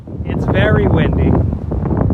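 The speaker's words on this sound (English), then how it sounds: "It's very windy" Strong wind buffets the microphone atop a TV tower, a loud continuous roar with gusty swells, and a voice speaks briefly through it.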